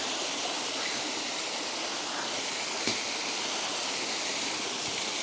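Steady rushing water of a Peak District stream, Red Brook, flows continuously, a broad, even hiss with no voices.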